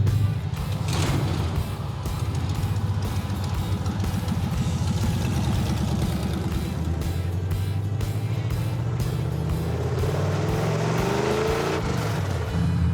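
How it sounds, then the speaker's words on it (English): A car engine runs steadily and loudly nearby, a low rumbling idle with mechanical whirring, its pitch rising and falling slightly toward the end. "Now you gotta turn the car on, I think, first."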